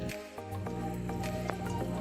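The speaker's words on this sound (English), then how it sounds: "nice slow drip going here" Water drips slowly into a shrimp tank during acclimation, with a handful of soft, separate plinks spaced across a steady low hum of aquarium equipment and no talking.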